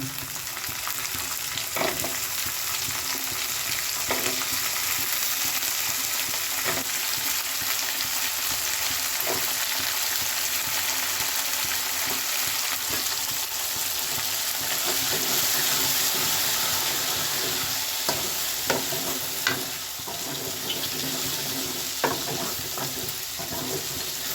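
Small onions frying in oil in a pan for a garlic and shallot gojju, a dense continuous sizzle with occasional light taps of a spoon against the pan.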